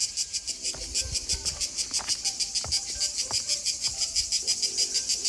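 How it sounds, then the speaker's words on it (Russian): Dense cicadas in summer heat around the ruins of the old town of Stari Bar, Montenegro, keep up a loud, pulsing, continuous drone throughout, with faint scattered clicks beneath. "Боже мой, сколько тут цикадок."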